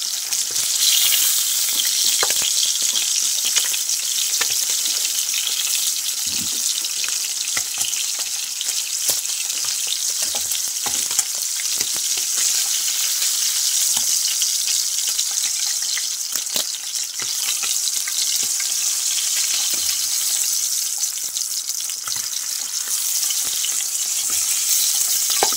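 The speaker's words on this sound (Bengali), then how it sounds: "সবগুলো মাছ আমি এভাবে ভেজে নেব" Several fish frying in oil give a dense continuous sizzle with irregular crackles and spits, fairly loud and close, with no one talking.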